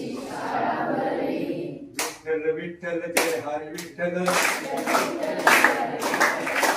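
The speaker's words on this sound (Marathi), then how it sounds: "हात आहे त्यांनी मोठ्या टाळ्या वाजवत" Students in a village school hall in Dhavalgaon clap along to a Vitthal devotional chant, and sharp rhythmic hand claps ring out between and under the chanting voices, growing denser toward the end.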